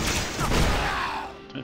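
Explosions in the video game Torchlight 2, a burst of booming, crackling blasts that rumble and fade over a second or so, with a voice faintly beneath.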